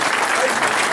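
A brief burst of applause rises from the audience at a Stafford Rangers football club end-of-season awards night, steady clapping with a crowd hum beneath.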